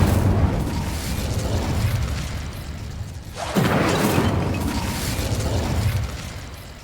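An Incendio fire spell cast in Hogwarts Legacy: a sustained low rumbling whoosh with a sharp burst near the middle, then continued dense roar, loud and close.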